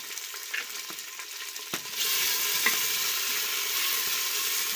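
Masala paste with tomato frying in a pan, a steady close sizzle that swells louder partway through, with a few light stirring clinks and no talk.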